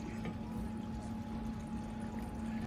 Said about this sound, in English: Now you want to drain it.